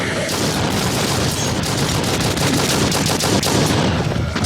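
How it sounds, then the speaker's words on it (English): Rapid, continuous gunfire from the animated Ultramarines movie, a dense rattling barrage that stays loud and unbroken throughout, with no clear talk. "he's literally shooting at the sand right now"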